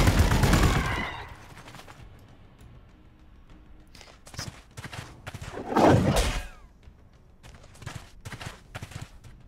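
Gunfire as units come under attack in the strategy video game Warhammer 40K Gladius: a loud burst opens, then scattered thuds and shots follow, with another heavy volley near the middle, and no talking.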